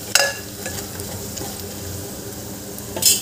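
Masala sautés in a pan with bay leaf for a green-pea masale bhat, making a close steady sizzle broken by scraping stirs and brief louder bursts at the start and end, and no one talking.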